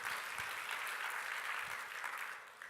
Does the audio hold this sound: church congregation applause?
yes